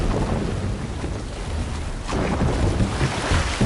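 Assassin's Creed Valhalla longship sailing through a storm, with a loud, steady wash of rain, wind and churning water and rumbling thunder filling the whole span, no voices.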